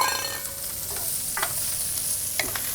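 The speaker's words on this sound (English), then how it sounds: "Simple, couple slices of garlic, some sliced white onion." Sliced garlic and white onion fry in a hot pan alongside shellfish, a steady close sizzle punctuated by a few distinct stirring clicks and scrapes.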